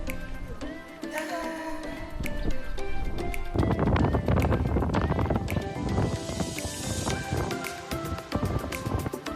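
Strong gusts roar across the Reinebringen mountain summit in Lofoten, Norway, buffeting the microphone in loud, surging waves that build and stay heavy through the second half.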